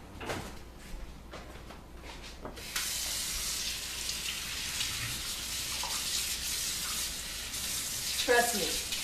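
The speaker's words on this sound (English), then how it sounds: "just gonna go rinse my hands real quick" Kitchen tap running as hands are rinsed under the water, a steady rushing splash that starts after a few light knocks and continues throughout, with some clattering near the end.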